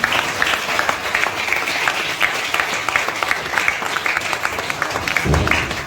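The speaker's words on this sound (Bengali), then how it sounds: "আমরা জোরসে করতালি দিই।" A church congregation at a night prayer vigil claps loudly and steadily while a candle is lit, a dense run of hand claps with a faint voice underneath.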